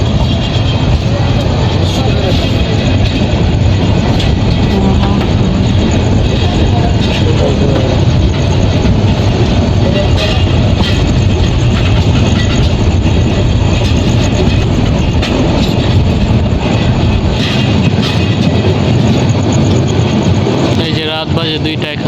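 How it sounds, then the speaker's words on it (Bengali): The Mahanagar Express pulls out of Comilla railway station at night, a loud, continuous rumble of wheels and carriage rattle with rhythmic clanking, heard close and steady throughout. "আমরা রাত 1:42-এ কুমিল্লা রেল স্টেশন ছেড়ে যাচ্ছি।"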